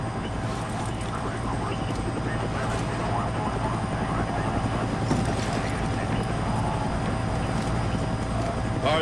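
Continuous helicopter rotor thrum and engine whine in the video game Ghost Recon Future Soldier, steady and close throughout, with faint voices in the background.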